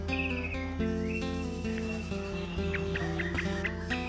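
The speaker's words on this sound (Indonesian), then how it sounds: "ini detik-detik burung akan mau bunyi" An orange-headed thrush sings in short bright whistled phrases over a steady background hum, close and clear.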